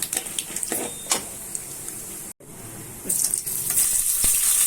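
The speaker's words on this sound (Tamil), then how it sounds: "கடுகு பொரிஞ்ச உடனே கடலப்பருப்பு சேர்த்துக்கங்க. கடலப்பருப்பு சவரட்டும்." Chana dal frying in hot oil with popped mustard seeds while wheat upma is being made, giving a steady close sizzle with scattered crackles and a brief break before the frying noise swells louder.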